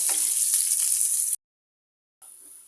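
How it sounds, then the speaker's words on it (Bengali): Chopped garlic and onion fry in oil for a tomato chutney, making a loud, steady, hissing sizzle. The sound cuts out abruptly for about a second, then returns more quietly. "রসুন কুচি দিয়ে দিব দুই তিনটা কোয়ার কুচি করে নিয়েছি পেঁয়াজ কুচি দিয়ে দিব দুইটা লাল লাল করে ভেজে নিতে হবে"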